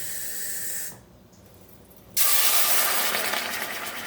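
Ground meat hits a hot pan after a soft background hiss and erupts into a loud, steady sizzle that carries on to the end.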